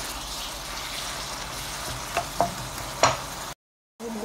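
Holy basil pork is stir-fried in a pan, a soft continuous sizzle with a few sharp scraping clinks of a spatula near the end, then a brief silence.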